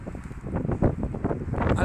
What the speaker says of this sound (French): et puis le vent souffle